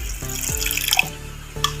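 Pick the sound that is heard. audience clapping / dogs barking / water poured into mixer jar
water poured into mixer jar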